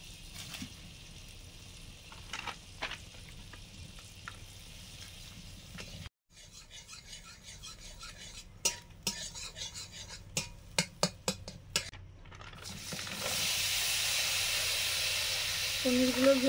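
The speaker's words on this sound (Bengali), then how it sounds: "যেহেতু পনির বাটার মশলা, এই জন্য বাটার দিয়েই ভাজবো পনিরটাকে।" Paneer fries in butter in a pan, a steady low hiss and sizzle that is briefly interrupted, then resumes with clicks and scraping from stirring before swelling into a louder, brighter frying hiss near the end.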